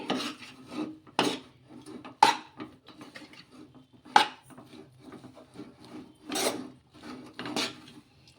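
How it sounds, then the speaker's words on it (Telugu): Oat powder being stirred into boiling water for homemade oats kurkure, heard as rasping scrapes and knocks of a spoon against the pan in irregular bursts, close and moderately loud, with no talking. "ఈ రెండు అంతా కూడా కలిపేసుకోవాలి చూడండి ఇలా ఈ విధంగా దగ్గర పడే వరకు కలిపేసుకోవాలి"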